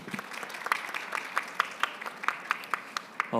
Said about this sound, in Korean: 네 분께 여러분들 격려의 박수 부탁드리겠습니다